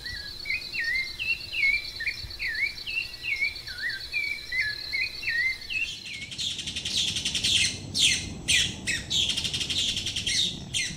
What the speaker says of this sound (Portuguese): Casaca de couro no fundo, né?